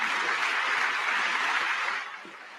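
Dense, steady applause from a large audience in a formal congressional chamber, loud and sustained before thinning out near the end, with no talk over it.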